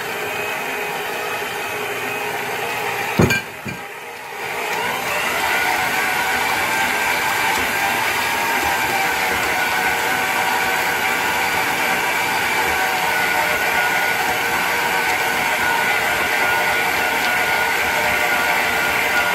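A dough kneading machine works a soft dough for Amritsari kulcha, giving a loud, steady mechanical whir that breaks off briefly with a clunk near the start and then drones on evenly.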